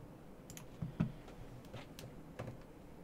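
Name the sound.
computer keyboard clicking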